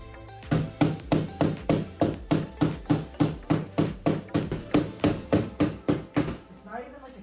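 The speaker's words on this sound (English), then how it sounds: "I see some kinks, so I'm going to kind of hammer them out" Repeated hammer blows knocking kinks out of car body sheet metal during a restoration build, about a dozen sharp metallic strikes in a steady rhythm, loud and close, then a few faint scrapes at the end.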